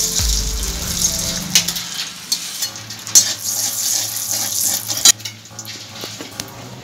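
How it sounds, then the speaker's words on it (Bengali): Lightly salted pointed gourd pieces sizzle in hot oil as a spatula stirs and scrapes the pan, with intermittent metallic clinks and taps. "এরপরে এই তেলের মধ্যে আমি পটলগুলো ভেজে নিচ্ছি"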